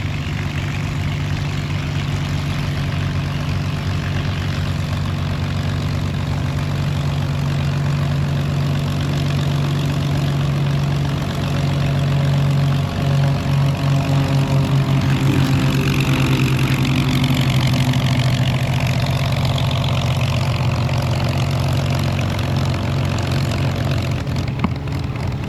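An Allison-engined XP-51A Mustang aircraft idles at an airshow, a steady low engine drone that holds level for the whole stretch, with a faint shifting tone rising and falling through the middle.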